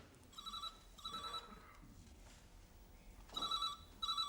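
A telephone rings in repeated double bursts, two rings early, a pause, then two more, fairly clear over a quiet room.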